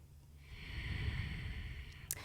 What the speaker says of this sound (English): breathing deeply through the nose.